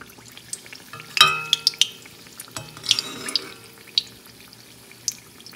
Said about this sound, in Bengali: তো এক এক করে সব পিঠেগুলো এইভাবেই ভাজা করে নেব।